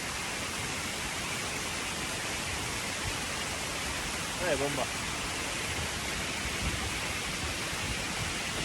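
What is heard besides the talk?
waterfall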